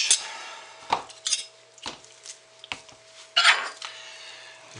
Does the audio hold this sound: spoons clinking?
yes